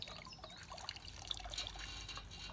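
Water spills and trickles out of a tipping bucket on a small model of an Ancient Roman bucket wheel, a steady splashing dribble with faint drips heard close up and alone.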